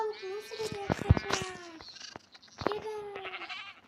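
A Minecraft goat bleats in long wavering cries, twice, with clicks and other game sound effects mixed in between.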